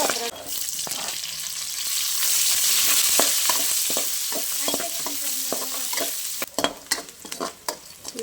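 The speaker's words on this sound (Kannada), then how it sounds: "ಸಾಸಿವೆ ಬೆಳ್ಳುಳ್ಳಿ ಬೆಳ್ಳುಳ್ಳಿ ಹಾಕೋತೀನಿ ಈಗ" Mustard seeds and garlic frying in hot oil in a pan for a village-style sambar make a continuous sizzle peppered with sharp, irregular popping crackles that grow louder and more scattered toward the end.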